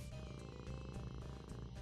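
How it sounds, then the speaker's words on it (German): A cat purrs in the video game Thief Simulator 2, a steady low rumbling purr that holds close and continuous for the whole moment with no talking over it. "Oh, die Katze ist voll am Schnurren"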